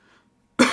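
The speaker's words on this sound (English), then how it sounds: "as he starts coughing." A man coughs once, a short loud harsh burst close up after a quiet pause, with faint muffled murmuring before it.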